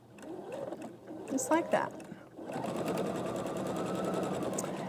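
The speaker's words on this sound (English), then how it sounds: "I am going to sew 1/4 of an inch to the side of the line" A sewing machine stitches pieces of a flying geese quilt block, starting after a short spoken remark and then running as a steady, close mechanical whir to the end.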